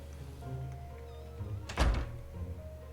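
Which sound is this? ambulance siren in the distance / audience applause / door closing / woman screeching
door closing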